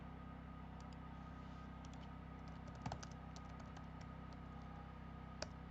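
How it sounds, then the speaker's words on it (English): Scattered, faint keystrokes on a computer keyboard tap out a short entry over a steady low background hum, with no talking. "So we will just try typing that in"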